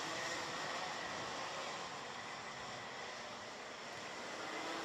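Rotax Max senior racing karts drone through turns 8 and 9 at Wackersdorf during a Euro Trophy heat, a dense, steady engine roar with no clear gaps.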